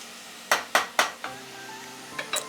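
Potatoes, carrots and peas are stirred in a cooking pot for veg pulao: three sharp utensil clanks against the pot close together, then a softer scrape and a couple of lighter taps.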